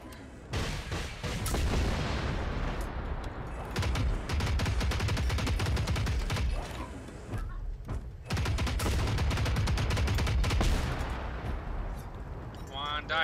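Heavy gunfire and explosions in the video game Generation Zero, with dense bursts of shots and booms, loud and close, while players shout over the action.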